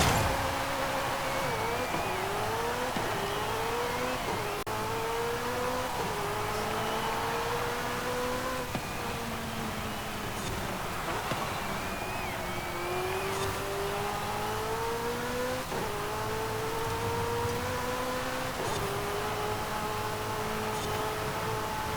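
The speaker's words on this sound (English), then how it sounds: "let's hear what that V8 sounds like without me waffling on in the background" A McLaren 765LT's V8 in the Forza Horizon 5 racing game revs and pulls through repeated gear changes, the engine note climbing and dropping in a sawtooth pattern, loud and continuous with no talking.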